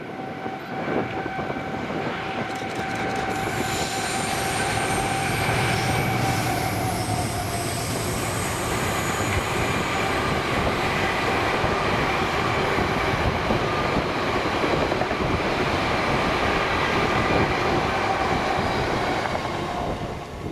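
A freight train of oil tank wagons from Dalston to Grangemouth rolls past in Scotland, with a continuous clatter of wheels and a sustained screech. It is loud and steady, and no voices are heard.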